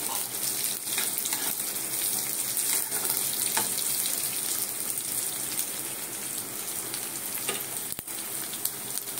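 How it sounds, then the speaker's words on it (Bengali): Poppy seeds fry in hot oil for a red leafy greens dish, giving a steady, close sizzle with crackle throughout and a few light stirring clinks, no voices. "পোস্তটাকে একটু তেলের মধ্যে একটু ভেজে দিতে হবে"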